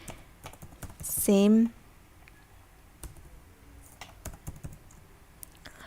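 Light, scattered keystrokes on a computer keyboard while working in MySQL Workbench, close and fairly quiet. There is a brief high electronic tone early on, and a voice speaks a single word.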